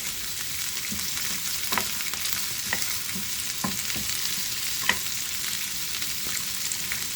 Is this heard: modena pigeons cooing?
no